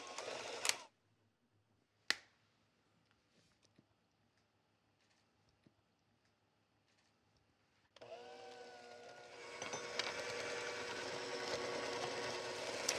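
An electric mixer beats eggs into chocolate chip cookie dough for thin, crispy cookies, starting after a quiet stretch with a few clicks and knocks and running loud and steady to the end.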